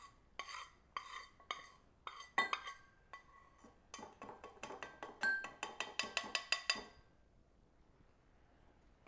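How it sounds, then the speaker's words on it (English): Repeated light scraping and clinking of a metal spatula against a glass beaker as copper oxide powder is scraped in, brisk taps and rasps in an irregular rhythm, close up, then trailing into quiet. "So I'm going to scrape the copper oxide into this beaker"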